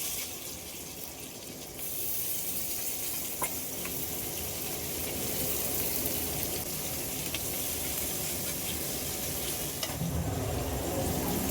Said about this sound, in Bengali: সেটা ভাজতে দিয়ে দেবো একদম হাই ফ্লেমে